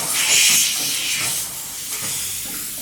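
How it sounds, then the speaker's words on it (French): A top-floor radiator bleed valve hisses and sputters loudly as water begins to arrive behind the escaping air, the rush wavering and turning rougher before easing off. "On entend le bruit de l'eau qui arrive."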